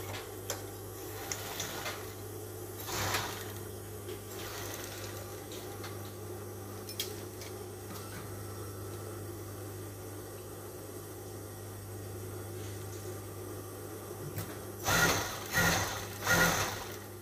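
A sewing machine stitches round a shirt collar, with a low motor hum and quiet ticking throughout and a few louder mechanical bursts of stitching near the end, with no speech.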